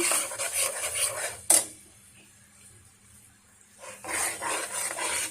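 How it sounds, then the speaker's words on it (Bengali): A spoon scrapes and rasps steadily through peanuts coated in thick, sticky sugar syrup in a pan, with a sharp clack partway through, a brief quieter stretch, then renewed stirring. "যতক্ষণ পর্যন্ত এই রসটা শুকিয়ে না আসবে ততক্ষণ পর্যন্ত আমি নাড়তেই থাকবো"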